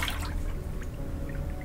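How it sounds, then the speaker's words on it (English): Water running and dripping as a bloody shoe is washed in the game The Witch's House, a short soft trickle with a few faint drips over a low steady hum. "Washing away the blood,"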